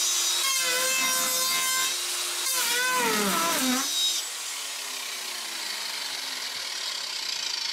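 An angle grinder disc whines and rasps against plastic in bursts, pitch dipping under load, then spins freely with a lighter hiss.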